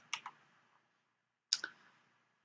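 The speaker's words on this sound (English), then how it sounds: "Left mouse click," Two quick pairs of computer mouse clicks, crisp and close, during digitizing of a closed shape for a hatch ripple fill; each pair is a sharp double tick with silence between the pairs.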